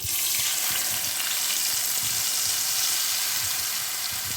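A paste of ground coriander, cumin, turmeric, chili powder and ginger fries in oil in a pan, a loud, dense, continuous sizzle with soft stirring scrapes underneath, close to the listener.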